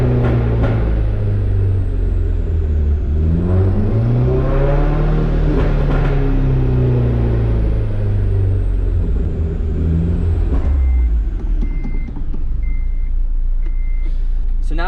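A Honda K-series car engine revving up with a rising whine, holding high, then dropping as it decelerates, with a loud low rumble throughout.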